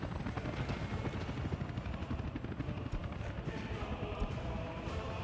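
Helicopter carrying asphalt to a paver in the city-building game Workers & Resources: a fast, steady rotor chop that is continuous and moderately quiet, heard alone without speech.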